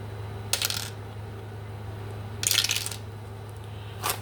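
Coins dropped into paper savings envelopes: three separate bright metallic jingles a second or two apart, close and distinct over a steady low hum, no talking.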